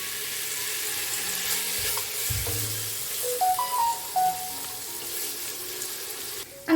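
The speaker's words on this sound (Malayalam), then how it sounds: "ബട്ടറും ഓയിലും മിക്സ് ചെയ്തത് നന്നായി ചൂടായി വരുന്ന സമയത്ത് നമ്മൾ നേരത്തെ മാരിനേറ്റ് ചെയ്ത് വെച്ച് നമ്മൾ ചിക്കൻ ഉണ്ടല്ലോ, അത് നമുക്ക് ഇതിലേക്ക് ഇട്ടിട്ട് ഒന്ന് ഫ്രൈ ചെയ്തെടുക്കാം" Marinated chicken frying in a pan of heated butter and oil, a quiet steady sizzle with a few soft clinks and stirring knocks, ending in a louder bump.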